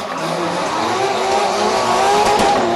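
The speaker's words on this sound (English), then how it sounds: "absolutely incredible noise out of Dwayne McKeever and Francis O'Shea's car as they passed in front of the tower" Driven by Dwayne McKeever and Francis O'Shea, a drift race car at the Prodrift first round in Ennis roars past the tower, engine blaring loudly and steadily with squealing tires the whole time.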